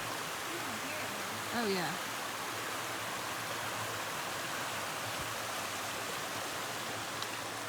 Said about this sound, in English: How crazy fast this water is flowing.